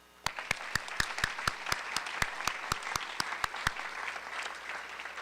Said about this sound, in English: Please join me in giving these incredible supporters the round of applause they so richly deserve.